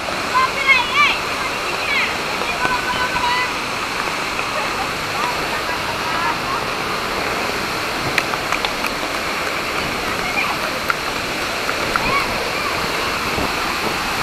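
Lembah Anai waterfall near Padang Panjang, West Sumatra, in the rain, giving a steady broadband rush of falling water with some splashing, fairly close and constant, while people talk over it.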